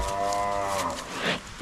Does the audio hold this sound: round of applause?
no